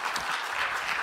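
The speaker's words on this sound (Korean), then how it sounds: "우리 박수로 한번 격려해 주시기 바랍니다." A church congregation applauds, a brief, steady wash of many hands clapping together at moderate volume.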